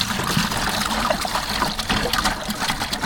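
Coolant drains from a 2016 Freightliner Cascadia truck during water pump replacement, trickling and splashing steadily into a bucket up close, with uneven gushes throughout.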